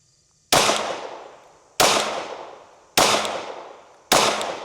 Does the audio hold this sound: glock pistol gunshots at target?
yes